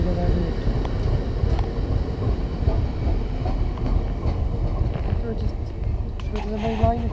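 A train wagon with flat-spotted wheels clatters along the rails in a loud, continuous rhythmic pounding and rumble, heard close from on board while people talk.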